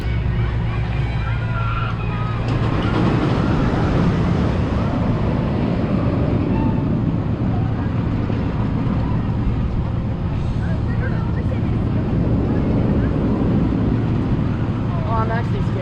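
Roller coaster train at Silverwood on the hybrid Tremors ride, with Millennium Flyer cars on steel-topped track, a loud constant rumble and wind roar throughout while riders talk and shout over it.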